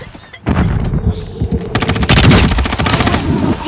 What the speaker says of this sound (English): It looked like you were literally shooting over his head.